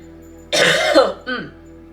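One short, harsh cough or throat-clear, close and fairly loud, followed by a smaller second one, over a faint steady hum.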